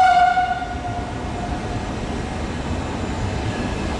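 An Italian Trenitalia high-speed train at Bari Centrale station gives a short tonal horn blast at the start, fading into the steady low rumble of the train moving through the station.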